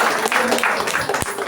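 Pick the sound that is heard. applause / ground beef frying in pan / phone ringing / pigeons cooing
applause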